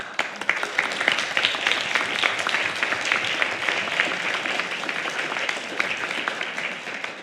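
Steady, warm applause from a church congregation at a Unity in Lynnwood service fills the room, dense and even throughout with no voices standing out.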